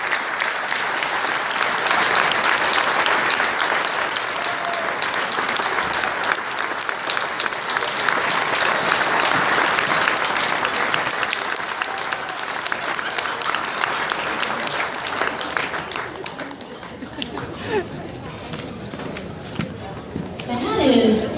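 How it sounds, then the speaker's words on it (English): Sustained audience applause at a charity gala follows a speech, loud and dense for about fifteen seconds, then thinning and tapering as it winds down, with crowd voices mixed in. "Another round of applause, ladies and gentlemen"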